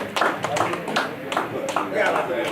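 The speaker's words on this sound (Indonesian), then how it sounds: "tepuk tangan buat Bang Erwin" Audience clapping at a community gathering of Betawi public figures: a scattered, uneven patter of hands from a small group, close and moderately loud, lasting a couple of seconds.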